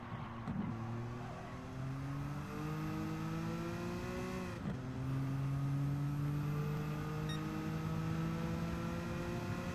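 Race car engine in Gran Turismo 7 holds a steady, loud drone with rising and falling throttle pitch, briefly lifting off mid-corner before pulling hard again on the exit, continuous throughout.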